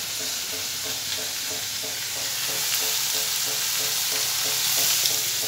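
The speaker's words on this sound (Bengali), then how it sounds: "এই যে কম আঁচে ভাজা হচ্ছে" Chili chicken frying over low heat in a pan gives a steady, continuous close-up sizzle with no talking.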